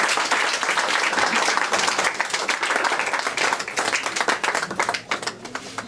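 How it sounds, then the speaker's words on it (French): Audience applause at a live event, a dense, steady wash of many hands clapping that carries on for the full stretch at close range, thinning slightly and turning more uneven toward the end. "on peut applaudir."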